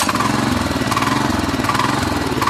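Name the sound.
tractor engine starting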